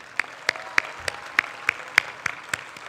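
Sparse applause at a student research conference, a handful of distinct, evenly spaced claps standing out clearly over quiet room noise.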